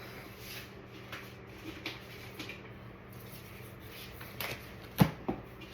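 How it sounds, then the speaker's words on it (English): Tarot cards are gathered up and shuffled, with soft riffling swishes and light taps over a low hum, and a couple of sharper knocks near the end. "Hold on a second, let me pick these cards up."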